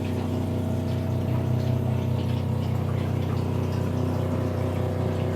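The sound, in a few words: water flowing out of RV water lines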